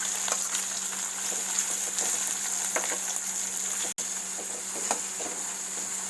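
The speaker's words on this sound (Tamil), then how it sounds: "எண்ணெய் காஞ்சிருச்சு. அதில் 2 கருவேப்பிலை ஆட் பண்ணுறேன். இந்த ஆனியனை அதில் நம்ம ஆட் பண்ணுறோம்." Onion and curry leaves frying in hot oil in a pan for white kurma give off a steady, close sizzle with faint crackles and light pops throughout, with no voices.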